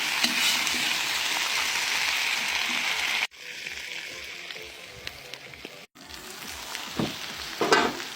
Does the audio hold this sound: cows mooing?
no